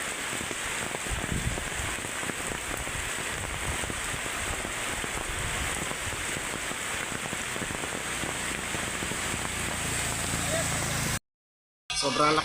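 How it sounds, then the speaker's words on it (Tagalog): Heavy typhoon rain from Typhoon Kristine pours down in Masbate province, a dense, unbroken hiss of drops hitting surfaces that cuts out briefly near the end before resuming. "Sobrang lakas po talaga mga kaibigan ng ulan dito ngayon."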